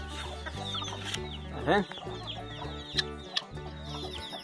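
A hen on a small farm clucks in short bursts, fairly close by, with one rising squawk in the middle. Someone speaks briefly over the clucking.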